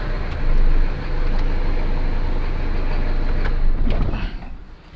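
A Toyota 1KZ diesel engine runs steadily with a dense low rumble, close and loud, easing off toward the end as it quiets down.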